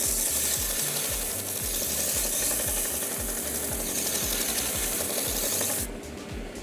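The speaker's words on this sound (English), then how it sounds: "I am going to go back and forth until I see everything is sanded" Sandpaper rubs back and forth along a guitar neck in fast, regular strokes, a loud continuous rasp with a rhythmic pulse. The sound drops off slightly near the end, and no one speaks.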